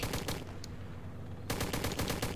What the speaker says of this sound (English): I took out the tank in one shot.